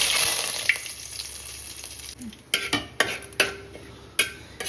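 Mustard seeds crackle in hot oil with a hissing sizzle at first, then a run of sharp pops and clatters from the pan, close and irregular.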